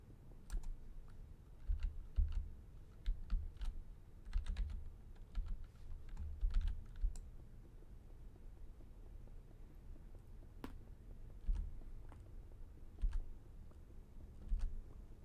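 Rapid, close-up clatter of a computer keyboard and clicking mouse during a Minecraft session, irregular bursts of keystrokes with brief pauses, quiet and without talk.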